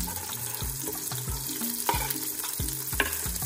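Onion tipped into a pot of hot oil with habanero for jollof, frying with a steady loud sizzle while a utensil scrapes and stirs in repeated rhythmic strokes.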